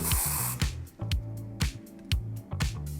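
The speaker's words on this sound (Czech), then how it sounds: "tak si uděláme teda i trošku objemu texturizačním sprejem tady v té části" Texturizing hair spray misted onto lifted sections of hair in short, close bursts with brief pauses between them, roughly five quick sprays.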